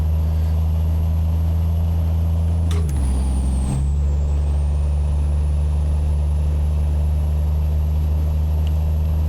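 Heavy truck engine in American Truck Simulator, a Peterbilt 389 rig, droning steadily at low pitch with a loud air-brake hiss near the start and a shift in engine tone before it settles back to a constant hum.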